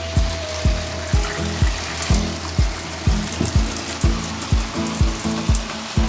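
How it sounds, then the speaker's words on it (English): A shower sprays steadily over potted houseplants, including a pothos, making a constant hiss of running water, while a low mechanical pulse ticks in a regular rhythm roughly twice a second underneath. "I'm taking a shower along with my plants"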